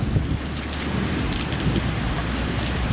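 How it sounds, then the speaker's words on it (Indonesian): Heavy rain pours steadily over Nipah Island, a dense, continuous hiss of drops drumming on surfaces with a low rumble beneath, loud and unbroken throughout, with no voices. "cuaca mendung tebal dan hujan yang turun di kawasan Pulau Nipah sempat membuat khawatir kami"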